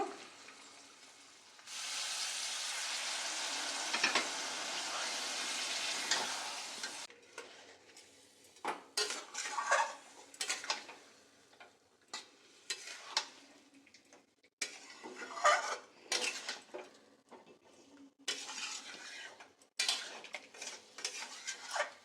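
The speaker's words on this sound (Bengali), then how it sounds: "মাংসটা বেশ কিছুক্ষণ কষিয়ে নিয়েছি" Chicken for biryani sautéed in a pan: a loud burst of sizzling at first, then intermittent spatula scrapes and clinks against the pan with quieter frying between them.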